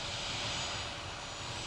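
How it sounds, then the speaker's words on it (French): An F-15 fighter jet's engine gives a broad, continuous roar at a steady level with no voices, filling the short stretch like an aircraft heard from a moderate distance. "ils effectuent régulièrement des vols d'entraînement en F-15."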